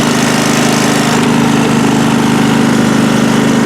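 A Craftsman lawn mower engine runs steadily at close range, a loud, even drone with a rapid firing pulse and no voices.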